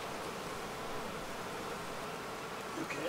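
Honey bees buzz steadily in an open hive, a continuous soft drone that stays level throughout with no talk.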